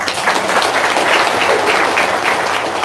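An audience at a testimonial talk bursts into loud, steady applause, a thick continuous clatter of many hands clapping close by without voices on top.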